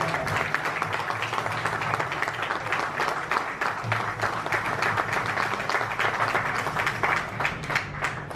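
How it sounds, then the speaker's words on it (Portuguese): A choir concert audience in Porto's historic centre applauds the priest, a long, steady roll of many hands clapping at moderate distance, even and sustained throughout. "Eu peço um aplauso para o Padre."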